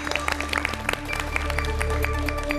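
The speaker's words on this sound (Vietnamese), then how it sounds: "Quý vị khán giả, dành một tràng vỗ tay." Studio audience applause on a Vietnamese TV word game show, a dense burst of many hands clapping together, loud and close, with no talk over it.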